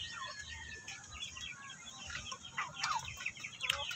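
A four-month-old Shamo Aseel stag chicken, alone outdoors, gives repeated short clucks and throaty calls at close range over a low farmyard background.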